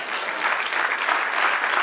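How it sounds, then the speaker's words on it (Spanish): An audience at a church sermon gives steady applause, a dense, even wash of clapping heard close and sustained throughout. "Dale un aplauso al que reina"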